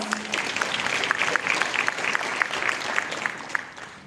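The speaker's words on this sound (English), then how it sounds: "please give her another round of applause." An audience at a conference session claps steadily and warmly, a dense patter of many hands that continues throughout and tapers slightly at the end.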